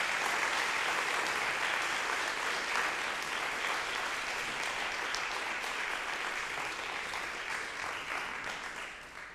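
A conference audience claps steadily as a speaker is welcomed to the stage, a dense even wash of applause that holds for several seconds and then slowly thins out at the end.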